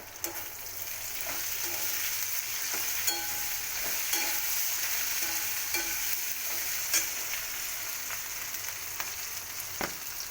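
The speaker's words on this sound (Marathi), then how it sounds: "आता आपण झाकण काढून मिरच्या हलवून घेऊ" Chillies for pickle are stirred in a hot pan, a constant close sizzle broken by light scraping clicks of the spoon against the pan, with no voices.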